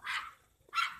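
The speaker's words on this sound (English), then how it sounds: "Look at them doggies go." A dog gives two short, sharp barks in quick succession with a brief gap between them, clear and fairly close, alone.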